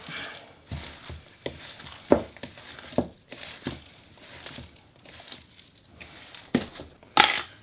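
Irregular scraping and crunching as dry ingredients with breadcrumbs and onion are stirred in a bowl, with soft gritty strokes and a few sharper clinks.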